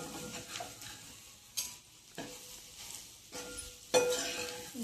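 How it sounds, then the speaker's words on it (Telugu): Egg is stirred around a hot pan to keep it from sticking, with quiet sizzling under repeated scraping strokes and occasional light clinks of the utensil against the pan. "ఎగ్ మొత్తం ఇలా కలుపుకోవాలి అడుగు అంటకుండా."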